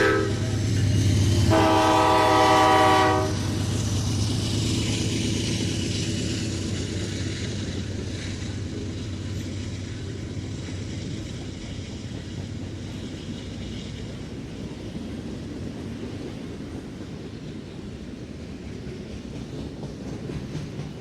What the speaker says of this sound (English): Most of this train is center beam flats of lumber for a distributor